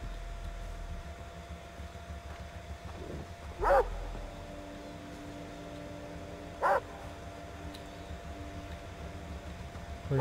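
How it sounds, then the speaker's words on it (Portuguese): A dog in the video game Far Cry 3 barks twice, spaced a few seconds apart, each short bark standing out over a low, steady game background hum. "Onde tem esse cachorro,"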